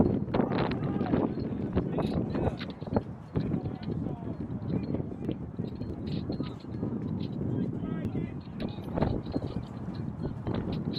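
Gusty wind buffets the microphone at an outdoor youth soccer quarterfinal in Concord, New Hampshire, a steady rumbling roar with irregular bursts running throughout, heavy and close, with faint crowd and player sounds scattered beneath.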